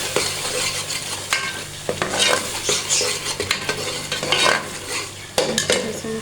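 Spices are stirred into potatoes and peas in a pan, producing sizzling frying beneath repeated scraping and clinking strokes of a spoon against the metal, all close and lively, with no voices.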